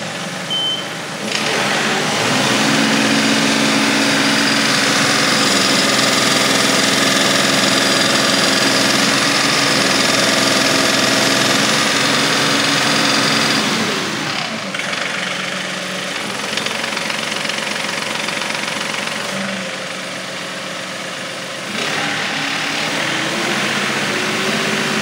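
A John Deere 2038R compact tractor engine runs steadily and loud throughout, revving high near full throttle with a dense continuous drone that dips briefly in the middle and near the end.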